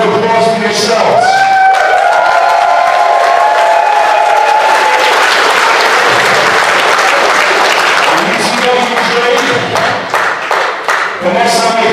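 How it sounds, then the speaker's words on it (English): Loud, sustained applause and cheering from a crowd at a CWE wrestling event, dense clapping with whoops and shouts filling the room for about twelve seconds, fading slightly toward the end. "you guys deserve a round of applause for yourselves"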